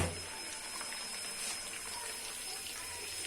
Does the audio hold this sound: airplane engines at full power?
no